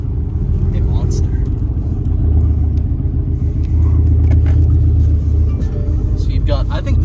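Inside a Mercedes-AMG GT R sports car, a steady, deep engine rumble and road drone fill the cabin, close and loud, while someone talks over it.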